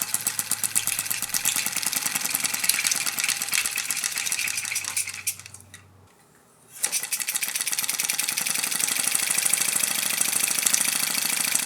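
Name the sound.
homemade engine running after mineral oil injection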